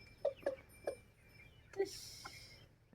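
Hens cluck softly in a few short separate calls, close by in a quiet outdoor setting with a faint background hum.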